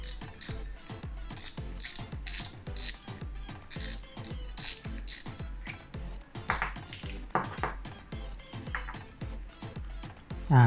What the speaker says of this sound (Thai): คลิกเสียงของตัวเก่านะครับ เป็นแบบนี้นะครับเป็นโลหะแผ่นนะครับเฟืองโลหะนะครับ